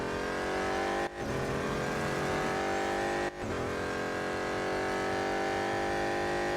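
A BMW M Hybrid V8 race car in Real Racing 3 screams at high revs, with a loud, continuous engine drone that climbs through the gears and drops twice on sharp upshifts.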